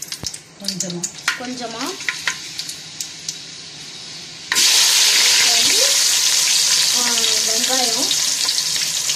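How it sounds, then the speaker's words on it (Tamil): Fenugreek seeds hit hot oil for a fish curry, first light crackles and clinks under a woman's speech, then a sudden loud, continuous sizzle as the seeds go into the pan. "இப்போ வந்து முதல்ல நம்ம வெந்தயத்தை போட்டுக்கலாம்."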